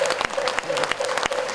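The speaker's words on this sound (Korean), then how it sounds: "박수로 부탁드립니다" Audience applause at a Buddhist inauguration ceremony of the Taego Order of Korean Buddhism, a steady wash of many hands clapping close and loud across the whole moment, with faint tonal ringing beneath.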